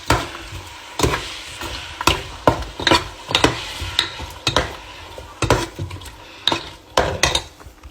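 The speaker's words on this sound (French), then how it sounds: "On met des oignons. On mélange." Onions being stirred into meat in a cooking pot for gombo sauce, with repeated scraping strokes of a utensil against the pot roughly once a second over a soft sizzle.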